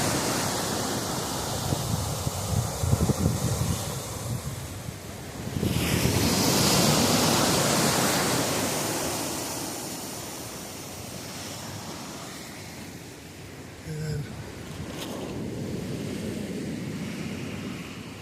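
Ocean waves roll in along a coastal roadside, a broad surging wash that swells and recedes over several seconds with gusty wind buffeting the microphone, and no voices.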